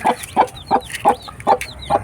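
A hen clucks in a steady, even rhythm close by while chicks peep in high, thin chirps around her.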